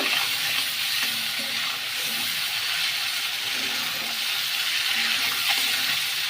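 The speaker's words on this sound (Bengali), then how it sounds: "মাছটা ভাজা ভাজা হয়ে এসেছে" A steady, loud sizzle of prawns frying in a pan, punctuated by repeated scraping stir strokes, close up and without talk.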